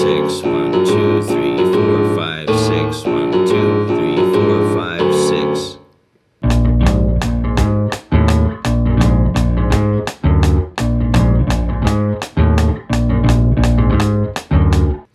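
Electric bass riff in a six-beat pattern, loud and close, with a dense sustained passage giving way after a short gap to a sharply plucked, repeating phrase.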